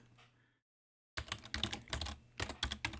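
Quick bursts of typing on a computer keyboard, close and clear, with uneven clusters of keystrokes that start after a brief silence.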